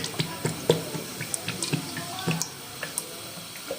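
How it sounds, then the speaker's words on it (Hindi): A quarter cup of cooking oil is poured into a pan for pea pulao, making a soft liquid trickle with scattered drips and small clicks, close by and fairly quiet, with no talking. "एक पैन ले लिया है, इसमें मैं डाल दूँगी 1/4 कप जो है वो ऑयल"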